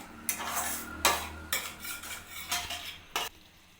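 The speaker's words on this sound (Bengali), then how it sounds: "এটাকে ভালোভাবে নাড়িয়ে নেব গ্যাসের ফ্লেমটা একটু জোরে দিয়ে দিলাম" Momo chutney with vinegar and soy sauce stirred over a high gas flame, a spoon scraping the pan in several distinct strokes with a faint sizzle between them, close and alone.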